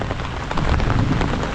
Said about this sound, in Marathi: तुफान पाऊस पडतोय